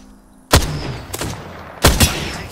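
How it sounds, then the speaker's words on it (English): Two loud, close gunfire bursts ring out in the Apex Legends battle royale while playing as Pathfinder, with a fainter shot between them and a lingering rumble after each. "I'm taking fire, friends."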